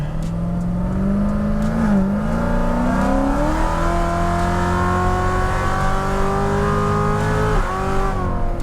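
A built Chevrolet Corvette C7 Z06 making roughly 816 horsepower accelerates hard, its loud engine note climbing steadily through the revs with a brief shift dip, continuous and close with no talking.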